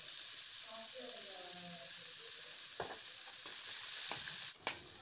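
Chopped onions sauté in hot oil with a little salt for idli upma, a steady close sizzle running throughout, broken by a few sharp scraping stirs near the end and faint tonal sounds early on.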